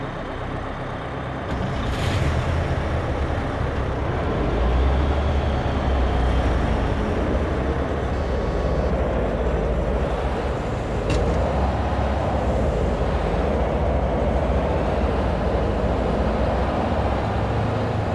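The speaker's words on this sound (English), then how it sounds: "get those engines on" Truck engines rumble steadily at an outdoor military-style training exercise, a loud, continuous low drone with occasional hissing, with no speech over it.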